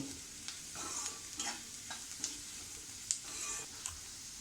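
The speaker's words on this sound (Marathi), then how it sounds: "हळद परतून घेऊया" Turmeric sautéing in hot oil for a potato bhaji, a quiet steady sizzle punctuated by light, irregular ladle taps and scrapes against the pan, with no speech.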